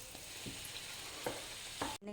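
Puri frying in hot oil, swelling up as it is pressed: a quiet, steady sizzle with a few soft stirring scrapes, stopping abruptly at the end.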